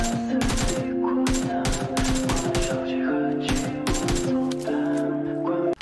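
Rapid bursts of gunfire from a shooting video game crack in repeated close volleys, with short gaps between them, over a sustained tonal background and a voice.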